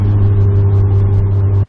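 A Toyota Supra's engine drones loudly and steadily from inside the car during a ride, a strong low rumble with faint rhythmic surges, running without pause until it cuts off abruptly at the end.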